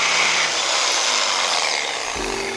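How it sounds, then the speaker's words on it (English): A power tool cuts through the hose inlet of a brand-new radiator for a V8 cooling setup, a loud continuous grinding rasp that holds steady throughout. "Yes, I just cut up my brand new radiator"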